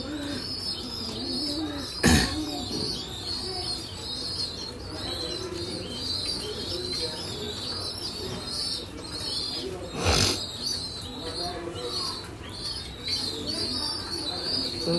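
Racing pigeons coo at a loft in a soft, repeated low burble, moderately near, with occasional wing flaps and background chirps.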